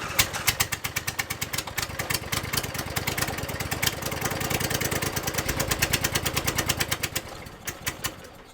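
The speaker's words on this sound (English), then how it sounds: "If I could only get the engine to draw gas" A small engine that is not drawing fuel sputters and chugs unevenly at close range, firing in rapid irregular pops and briefly rising before it fades and dies out at the end.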